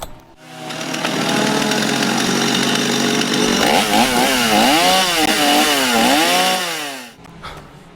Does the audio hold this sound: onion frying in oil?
no